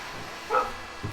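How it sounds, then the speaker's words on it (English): A single dog bark or yip cuts briefly through low background noise during the wrap-up of an NHL 20 hockey game session, followed by a softer low grunt, fairly close and moderately loud. "my dog's going to bark through the entire outro here of this video"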